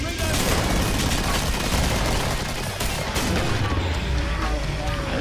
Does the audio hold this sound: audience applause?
no